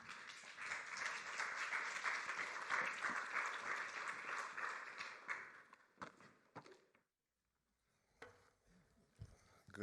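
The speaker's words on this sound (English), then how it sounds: "Let's applaud him." Audience applause at a Central and Eastern Europe business summit after a panel, a dense and steady burst of clapping that thins out into a few scattered claps and then silence.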